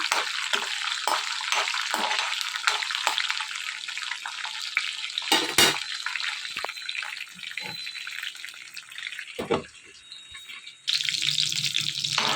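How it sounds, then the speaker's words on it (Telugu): Dry red and green chillies fry in a pan with a steady hiss and crackle, broken by short scraping stirs and a brief louder burst near the end. "రెండు ఎండుమిర్చి నాలుగు పచ్చిమిరపాయలు వేసుకొని వీటిని బాగా వేయించుకోవాలి"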